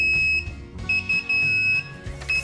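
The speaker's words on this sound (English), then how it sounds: "That's how loud it turns the alarm sounds" Egg incubator temperature alarm sounding in loud, close, high-pitched beeps that stop and restart in uneven bursts over a low background hum.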